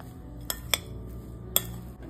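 Capsicum, pepper, mayonnaise and ketchup are mixed in a bowl, with three sharp utensil clinks against the bowl over a quiet background and no talking.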